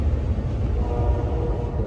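A passenger train runs along the rails through North Carolina in a steady low rumble and hum heard from inside the carriage, continuous and fairly quiet with no talk.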